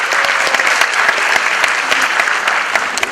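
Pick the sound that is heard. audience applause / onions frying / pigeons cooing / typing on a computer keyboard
audience applause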